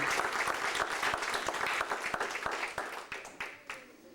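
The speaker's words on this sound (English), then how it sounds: "Let's give God a hand clap on that" Audience hand clapping at a church school program, a crowd's applause that starts dense and full, then thins into fewer distinct claps as it fades out, with faint voices underneath.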